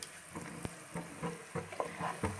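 Chicken pieces sizzling and frying with softened onions in a pan, a soft steady crackle with periodic stirring scrapes, no talking.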